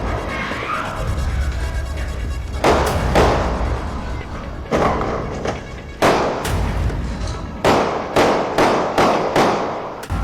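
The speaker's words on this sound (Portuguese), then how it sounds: "Tiros estão sendo disparados e as pessoas estão correndo." Sharp gunshots go off one after another in uneven bursts, some close together, over a low background rumble as people run.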